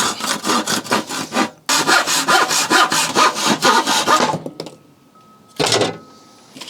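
Wood sanded by hand with rough 80 to 120 grit sandpaper: loud, close, rhythmic back-and-forth rasping strokes in two long runs, a brief pause, then one short final burst.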